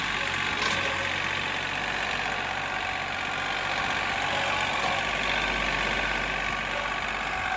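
A John Deere tractor engine running steadily, a continuous close diesel drone with broadband rumble and no clear pauses, no voices.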